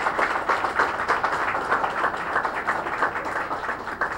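An audience at a gathering applauds former coordinators with dense, continuous clapping that stays fairly loud and even throughout, with no voices over it.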